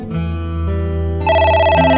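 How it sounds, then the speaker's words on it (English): A telephone rings in the video game AI: The Somnium Files, a bright electronic ring starting partway through over a low, steady game background hum, clear and close with no talking. "It's the phone."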